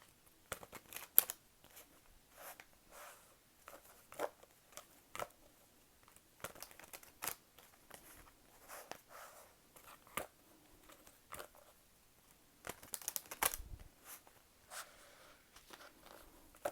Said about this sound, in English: All right, I'm gonna use the tarot now. I'm shuffling.